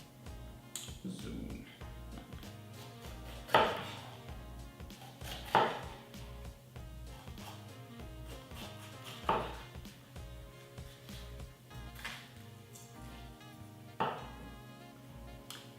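A knife chopping a green bell pepper into rough chunks on a board for Spanish gazpacho: a run of regular, crisp chops, some sharper strikes standing out, with a voice talking over it.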